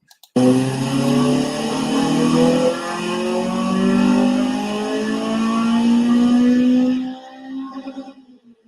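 Honda Civic EP3 making about 150 brake horsepower, revving hard on a rolling road with a rising, screaming engine note held for several seconds before cutting off abruptly, followed by a brief faint tail of sound.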